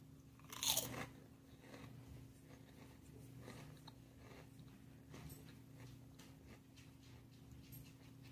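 Crunchy keto stevia churros with a pork rind coating are bitten with a sharp crunch near the start, then chewed in a steady soft munching that continues quietly through the rest, close to the microphone.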